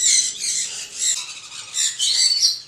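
A blue-and-gold macaw breeder female at a Sunday bird market in Multan gives loud, harsh squawks in two close bursts, near and clear with no talk over them.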